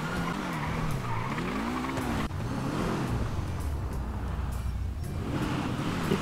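Car in GTA 5 driving fast, its engine droning and revving steadily while tires skid and squeal, continuous and loud with no talking over it.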